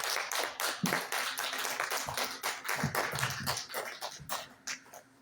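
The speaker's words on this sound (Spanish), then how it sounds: "Dale un fuerte aplauso a Dios." A church congregation claps together during a worship service, a dense run of sharp hand claps carried along with a steady rhythmic beat, loud and close, no talking over it.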